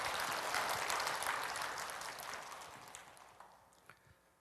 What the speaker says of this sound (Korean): 와, 박수 좀 한번 해드려